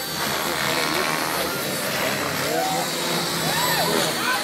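A small model helicopter buzzes steadily overhead with a high whining rotor, its pitch shifting slightly as it flies around.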